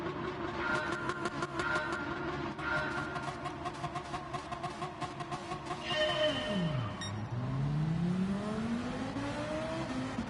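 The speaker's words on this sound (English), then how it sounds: "that Ferrari just goes off the line" Ferrari GT3 race car in Gran Turismo 7 open-lobby racing launching from the start line, a loud revving engine climbing through gears with a sweeping pitch drop and rise as other cars roar close by in a busy field.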